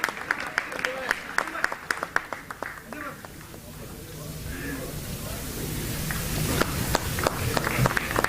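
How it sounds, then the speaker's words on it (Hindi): Applause welcoming a speaker at a stage programme: a few sharp, spaced claps at first, then a swelling wash of crowd clapping that grows louder and denser toward the end. "जोरदार तालियों से डॉक्टर कासिम इमाम का इस्तकबाल करें"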